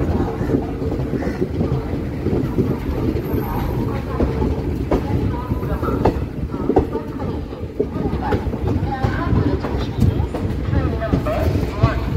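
A train runs through Surat railway station on a Surat-to-Virar service, a steady loud rumble of wheels on rails lasting throughout, with indistinct voices in the background.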